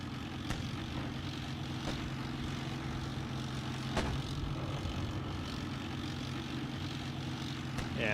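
Steady droning rotor and engine hum from helicopters flying overhead in a winter tank battle game, a continuous, fairly even roar with faint distant thuds underneath and no talk.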